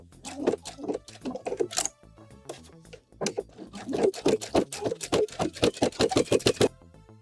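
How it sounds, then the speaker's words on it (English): A sewing machine stitches a zipper through thick hoodie layers in short bursts of rapid needle clatter with brief pauses between runs, close and fairly quiet. "we're gonna be stitching through all the layers"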